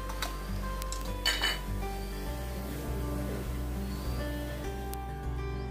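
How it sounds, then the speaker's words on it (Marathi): A fork pokes holes in boiled eggs in a kitchen, giving light metallic clinks and taps against a dish, several quick strikes early on and then softer scraping under a steady low hum. "त्याला प्रथम मी असे फोकने होल करून घेते"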